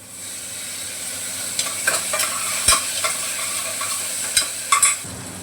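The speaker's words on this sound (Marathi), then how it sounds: "मी थोडंसं असं जरा बारीक गॅसवर परतून घेते कांदा टमाटा" Onion and tomato sautéing in a pan over low heat, a soft continuous sizzle with several sharp scraping and stirring clicks from a utensil against the pan, no talk.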